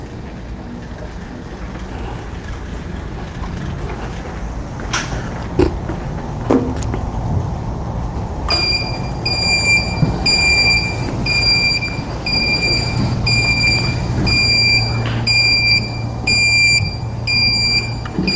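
A battery-operated motorized cart for hospital patient transport and material handling hums along, then a loud, evenly spaced series of high electronic backup beeps starts partway through and repeats to the end.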